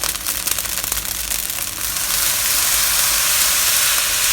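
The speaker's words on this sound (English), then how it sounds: "Now we'll add some fish sauce to the fried rice." Fish sauce poured onto Thai olive fried rice (khao phad nahm liap) in a hot pan sets off a loud, close sizzle. It swells into a steady, roaring hiss of steam that fills the rest of the moment.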